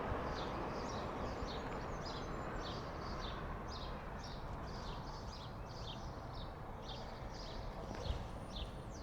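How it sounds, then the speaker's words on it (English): Small birds chirping in repeated short calls from nearby trees on a spring morning, heard over a steady wash of road traffic noise from a busy main road. "all those birds you hear are coming from those trees over there"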